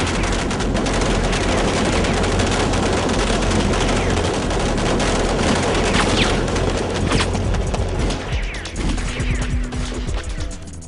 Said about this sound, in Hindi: सब एक साथ फायर करो।